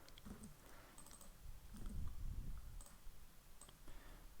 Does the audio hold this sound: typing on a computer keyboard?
yes